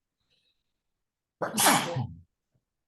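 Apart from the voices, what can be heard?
sneeze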